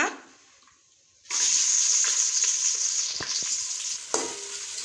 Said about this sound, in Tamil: இது வந்து கொஞ்சம் நல்லா வதங்கட்டும்